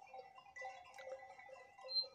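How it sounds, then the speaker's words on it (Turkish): A bird sings a varied, warbling song nearby, its notes shifting pitch continuously over a quiet background. "Şurada bir tane kuş var. Çok güzel ötüyor arkadaşlar."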